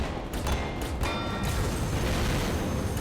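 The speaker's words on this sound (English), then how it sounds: "Zombie Fire 3D is a classic FPS game where you shoot wave after wave of zombies" Rapid gunfire from shooting zombies in the mobile first-person shooter Zombie Fire 3D, a dense continuous barrage of shots and booms filling the whole stretch at steady loudness.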